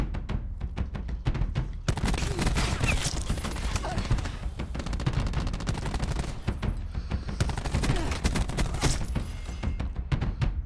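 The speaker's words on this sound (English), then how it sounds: "Teammates are shooting at the other bomb site" Distant gunfire in Call of Duty Black Ops 4 during a Search and Destroy match, with rapid bursts of shots crackling steadily throughout beneath busy game ambience.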